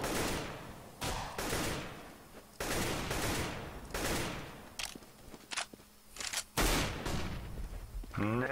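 Bursts of gunfire in the video game CS:GO, several loud rapid volleys of automatic shots separated by short pauses, with a few single shots and small clanks between them.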